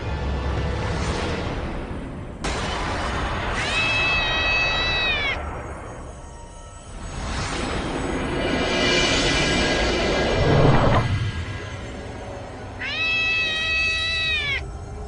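A cat meows twice in long, drawn-out, wavering cries, each clearly heard over a dense, noisy background of rushing sound.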